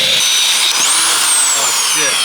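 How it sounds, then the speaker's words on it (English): A power drill whines steadily up close, drilling out rust-welded, stuck bolts on a Toyota AE86 Trueno with the hood in the way; a brief rising pitch sweep sits over broadband grinding noise. "drilling out some bolts With the hood in the way"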